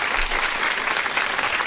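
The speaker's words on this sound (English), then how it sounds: "let me give you your official round of applause" A studio audience gives a brief, dense round of applause during an interview with a judge, steady and close throughout with no talking over it.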